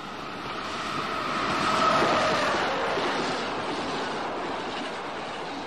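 A passing train rumbles past as a broad wash of rolling wheel noise that swells to a peak and then slowly fades, steady and unbroken with no voices.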